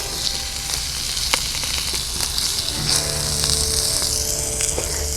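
Steady, crackling sizzle of steak searing on a hot flame grill, loud and close, with scattered pops and a low hum underneath throughout.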